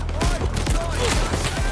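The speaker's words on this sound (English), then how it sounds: "It's a sniper out here, bro." Rapid gunfire from a video game cracks repeatedly in a dense burst of shots over a steady background hum.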